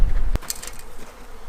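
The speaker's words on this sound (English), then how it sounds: "get rid of some of these robber bees" Robber bees swarm around a beehive, making a close, steady buzzing drone, with a sharp knock early on and no voices.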